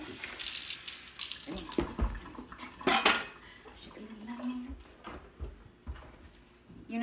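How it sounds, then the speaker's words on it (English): Tap water runs into a kitchen sink while dishes are washed by hand, with plates, pots and cutlery clattering and clinking close by throughout. "I love doing me some dishes."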